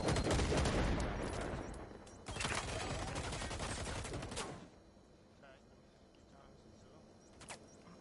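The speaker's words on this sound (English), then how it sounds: "Looney Tunes surviving here in this gunfire exchange." Gunfire exchange in a competitive video game match: dense overlapping bursts of shots, loud at first, then easing off into quieter scattered sounds, with voices faintly underneath.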